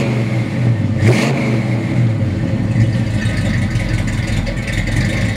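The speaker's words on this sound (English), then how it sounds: "About to start it for you because this car really does sound great." A 1966 Shelby Mustang GT350 V8 engine turns over and settles into a loud, throaty rumble with a brief rev, continuous and close.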